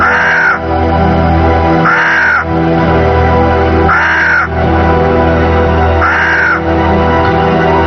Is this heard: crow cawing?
yes